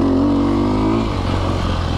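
A 2020 Sherco 300 SEF four-stroke motorcycle engine hums steadily while being ridden, a close, loud, continuous drone whose pitch holds then shifts slightly lower partway through.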